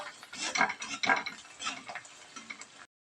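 A spoon scrapes and clinks steadily through a bowl of spinach pakora batter with chopped coriander being mixed in, a busy close-up stirring texture with no talking.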